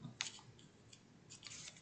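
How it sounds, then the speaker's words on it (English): Scissors snipping through paper while shaping DIY paper flowers: a few short, crisp cuts spaced out over a couple of seconds, close and fairly quiet. "Then I'm going to take my scissors"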